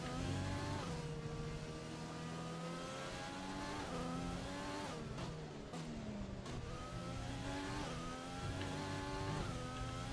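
Formula 1 car engine in the F1 2020 racing game at Monza, a loud, continuous high-pitched whine rising and falling through gear changes, with brief dips around braking and corners.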